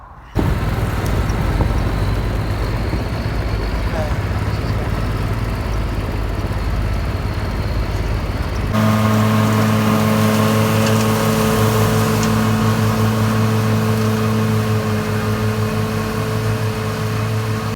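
A tractor engine idles steadily before heading out to mow third-cut silage, a loud continuous drone that shifts to a deeper, more tonal hum partway through, with no talk over it.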